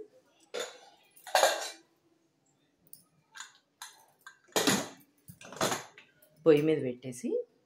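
A metal pot of dal is set down on a stove and its lid closed, giving a few separate clanks and clinks at close range while someone speaks between them.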